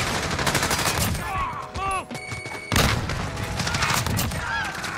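Dense rapid gunfire from a Call of Duty match with an R9-0 shotgun loadout, with continuous loud shots and explosions, a brief lull in the middle, and a voice talking over the action.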